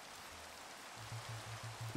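Rain falling in Minecraft and splattering on stone, a soft, constant hiss with a few faint low pulses in the background.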